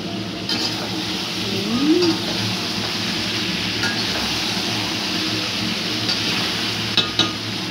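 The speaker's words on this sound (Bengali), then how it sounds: "চিকেন রান্না হচ্ছে, দিদি রান্না করছে, ভালো কালার হয়েছে।" Chicken sizzles and fries in a pan as it is stirred, a steady crackling hiss close by, with a few sharp utensil clinks near the end.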